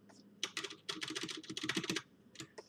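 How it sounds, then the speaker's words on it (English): Fingers clatter across a mechanical keyboard in quick bursts of crisp, clicky keystrokes, a steady run of typing broken by a short pause before a final few presses, close and moderately quiet. "good old mechanical keyboard"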